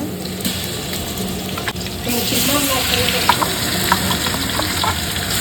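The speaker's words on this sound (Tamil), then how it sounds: "வெங்காயம் பார்த்தீங்கன்னா நல்லா வதங்கிருச்சு இப்போ இஞ்சி பூண்டு பேஸ்ட் சேர்த்துக்கிறேங்க" Onions fry in a pan with ginger garlic paste for chicken biryani, giving a dense, loud sizzle that swells partway through, with occasional stirring clinks and scrapes, heard up close.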